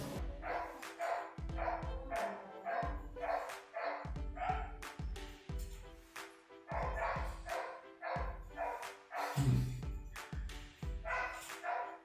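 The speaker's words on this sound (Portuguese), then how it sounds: "o cachorro não para" A dog barks repeatedly in quick bursts of sharp, fairly close barks, with a few short pauses and some whimpering yelps mixed in.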